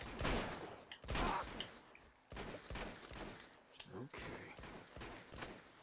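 Bursts of gunfire pop in quick clusters in Uncharted 2: Among Thieves, several loud shots spread across a few seconds with mechanical clatter between them.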